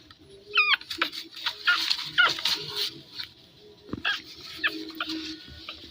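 A pug puppy travelling by bus whimpers with high, thin cries and lets out a few short yelps, close and fairly loud, with background rustling and noise between the calls.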